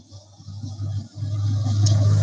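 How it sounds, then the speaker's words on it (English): A loud truck passes near a street intersection, a low engine rumble that dips briefly and then swells steadily louder toward the end, with faint traffic hiss above. "That was a truck, and it was really loud."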